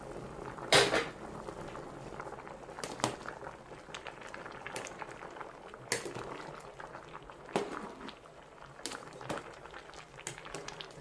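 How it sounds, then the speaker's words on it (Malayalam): Tapioca (kappa) boiling in a pot on a home kitchen stove gives a steady low bubbling under a busy kitchen, with clinks of utensils and a few sharp cupboard or lid knocks scattered throughout. "കപ്പ നന്നായിട്ട് തിളച്ച് വരുന്നുണ്ട്."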